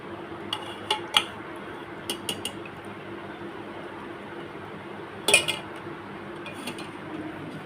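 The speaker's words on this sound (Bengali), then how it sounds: "তো সোমবারের দুপুরের থালা আমি সাজিয়ে নিলাম" A lunch plate of rice and thin hilsa fish curry with eggplant is laid out, with a few sparse clinks of cutlery and dishes against a quiet room background.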